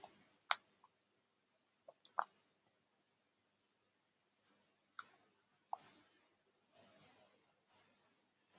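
Sparse, faint mouse clicks on a Save Changes button, a dozen or so sharp ticks spaced irregularly against near silence.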